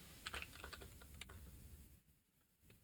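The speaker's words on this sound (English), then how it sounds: "Man, I'm having a hard time typing today, guys." Keys on a computer keyboard are tapped in a soft, quick flurry of clicks that trails off into a near-silent pause.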